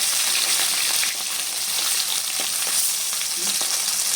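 Spiny eel (baim fish) frying in a pan gives a dense, steady sizzle close by, with a few soft bumps from turning the pieces.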